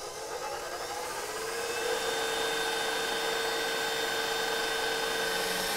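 An electric mixer whisks egg whites at high speed as honey syrup is added, producing a steady, loud mechanical whine with a tone that rises slightly and then holds, close up and without talk.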